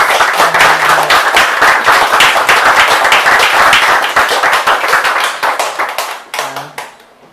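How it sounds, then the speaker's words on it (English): An audience at a poetry reading event claps in a brief, dense burst of applause that stays loud for several seconds, then thins out into scattered claps and fades to quiet. "So maybe we just give a very quick round of applause"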